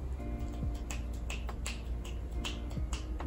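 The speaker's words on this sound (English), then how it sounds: "2022 deserves some finger snaps." Finger snaps ring out one after another in an irregular run, crisp and close, with a little tapping mixed in and no voices.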